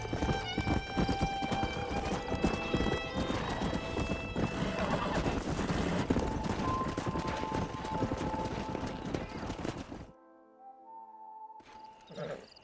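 Horse hooves clatter rapidly while horses whinny loudly in the video game Red Dead Redemption, with a sharp neigh; then the hoofbeats stop, leaving a faint tonal hum and a brief clatter.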